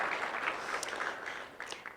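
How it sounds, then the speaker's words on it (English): An audience at a developmental education talk gives a round of applause, a steady wash of many hands clapping at moderate volume for about two seconds. "I just want to give her another round of applause too."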